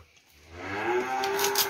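A single cow gives a close, clear, drawn-out moo of over a second in a cattle-selling setting.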